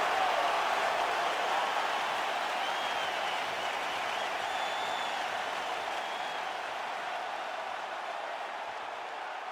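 Arena crowd in the UFC 5 video game applauding and cheering before a lightweight championship fight, a steady broad wash of clapping that slowly fades slightly, with no talk over it.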